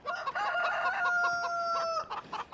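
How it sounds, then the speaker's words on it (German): In the farming game Farming Simulator 17, a rooster crows loudly and close for about two seconds while hens cluck around it, a short farmyard burst with no talking. "Also ich hatte einen Hahn und zwei Hühner."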